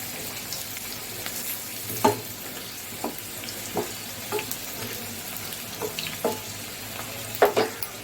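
Potatoes and papaya fry in a pan on the stove, giving a soft, steady sizzle broken by scattered scraping clinks of stirring.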